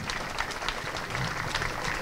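A crowd applauds steadily at an outdoor pro-life march, the dense clapping sustained and fairly close, without a break for about two seconds.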